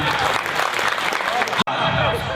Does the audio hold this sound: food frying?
no